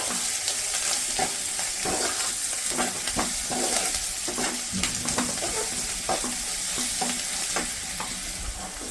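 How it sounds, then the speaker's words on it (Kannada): Potatoes with salt and turmeric sizzle in a hot pan while a spoon stirs them steadily, giving a continuous close frying hiss broken by frequent scraping strokes. "ಇವಾಗ ಉಪ್ಪು, ಅರಿಶಿನ ಪುಡಿ ಎಲ್ಲ ಹಾಕ್ಕೊಂಡು ಒಂದು ಅರ್ಧ ನಿಮಿಷ ಆಡಿಸ್ಕೊಂಡಿದ್ದೀನಿ"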